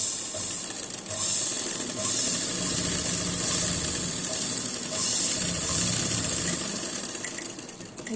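A sewing machine stitches a pant seam in a steady mechanical run, its whirring, ratcheting rhythm continuing close and loud throughout with only brief dips in intensity.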